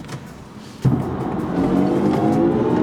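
A BMW i4 M50 electric car accelerates hard in sport boost mode, its sound rising suddenly from a quiet cabin hum to a sustained, steady surge of synthetic drive tone and road noise that holds loud to the end.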